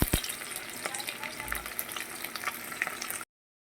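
Garlic and green chilli frying in hot oil give a continuous soft sizzle with a few light stirring clicks, close and fairly quiet, then the sound cuts off abruptly near the end.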